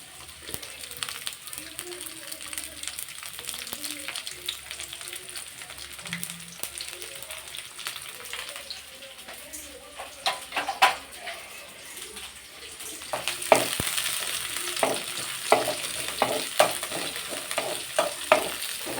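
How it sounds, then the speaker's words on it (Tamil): Washed pirandai (adamant creeper) sizzles and crackles in hot oil for a Tamil chutney, with steady frying hiss and frequent scraping stirs, louder in the second half; faint speech-like sounds appear beneath. "எண்ணெய் நல்லா காஞ்சதையும் இந்த பிரண்டை கழுவி வச்சதை உள்ளே போட்டு நல்லா வணக்கிடணும்"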